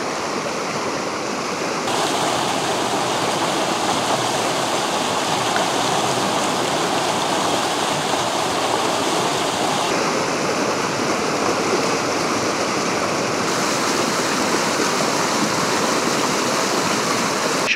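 Floodwater flows along the Danube in a continuous loud rushing wash, steady throughout and close by, with no voices.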